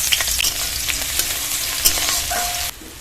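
Finely chopped onion hits hot oil and fries with a loud continuous sizzle, punctuated by scraping stirs and clicks of a spoon against the pan before the sound drops off abruptly.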